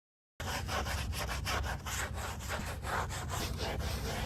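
Steady, close scrubbing with Dawn dish soap, a continuous coarse rasping friction running without pause and without any talk.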